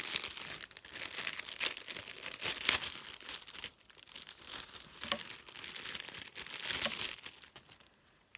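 Packaging around small Christmas diamond-painting ornaments is opened with crinkling and crumpling plastic and paper, close and quiet, rising and falling in uneven bursts with some tearing.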